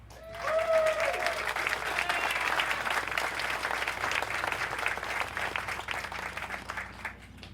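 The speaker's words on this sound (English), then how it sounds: "we will applaud you at the time" Audience applause for elected officials at a county campus ribbon-cutting ceremony, a sustained round of clapping from a crowd that swells quickly, holds steady for several seconds, then tapers off.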